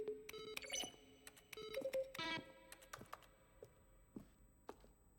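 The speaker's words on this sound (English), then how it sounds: "Each sound is a mix of a keyboard stroke and a synthesized tone." Button-press sounds from SCP: FM / The Stanley Parable Ultra Deluxe, each a keyboard stroke blended with a synthesized tone; a quick run of tonal clicks and beeps with no talk, then a few sparser, fainter taps.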